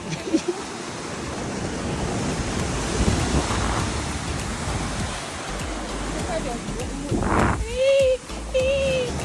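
Beach surf rolls in as a broad, steady wash of wave noise, close and fairly loud. Near the end a voice speaks briefly over it.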